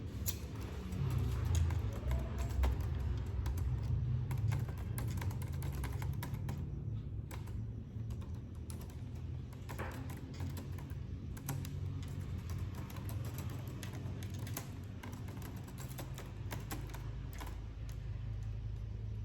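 Steady typing on a computer keyboard while entering text into a document, with continuous, closely spaced key clicks running throughout over a low background hum, and no talking.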